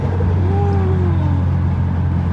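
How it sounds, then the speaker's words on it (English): Ford Mustang turbo spooling while driving, a rising whistle over a steady loud engine drone and road noise inside the car, heard close and continuous. "I know y'all hear that turbo spooler."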